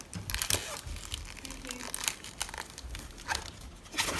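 Tape and protective film being peeled off a painted CD, giving close crinkly tearing and crackling bursts that come and go over a few seconds, with no voice.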